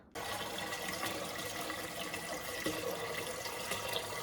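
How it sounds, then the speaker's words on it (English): Tap water pours steadily into a cooking pot, a constant close splashing rush starting abruptly and running unbroken. "fill this pot with water"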